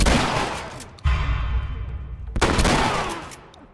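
Shotgun blasts in The Last of Us Remastered, two loud booming shots a little over a second apart, each with a long rolling echo tail that trails off.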